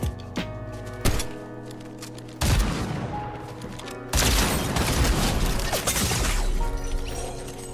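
Gunfire in a Fortnite zero build match, with several loud, abrupt shots and booms, the last one rolling into a sustained burst of crackling noise.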